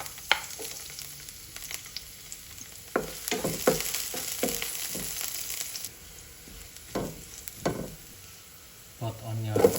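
Garlic sizzles and spits in hot cooking oil in a home kitchen pan for a sardine dish, a steady faint fry broken by sharp crackles and the scrape of stirring.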